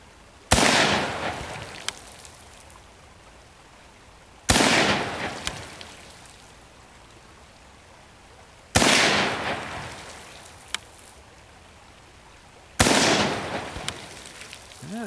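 A Ruger M-14 rifle in 5.56 NATO fired at targets floating in a creek outdoors: four loud, sharp shots about four seconds apart, each followed by a booming echo that fades before the next.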